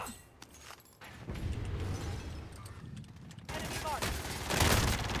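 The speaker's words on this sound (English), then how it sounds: "Taking fire here!" Warzone video game gunfire, bursts of rapid shots that swell and fade over a few seconds, mixed with rumbling game noise and loud enough to rise above the background.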